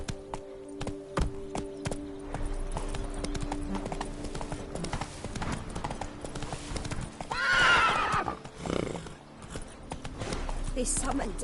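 Geralt's horse Roach from The Witcher video game galloping with steady hoof clip-clops, then letting out a loud, drawn-out neigh midway, with a voice speaking over it.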